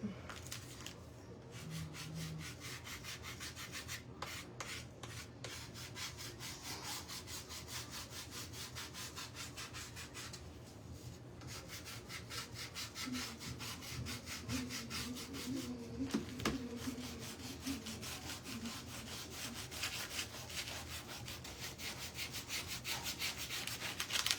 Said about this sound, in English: I think before I do that, I'm gonna sand the edges a little bit.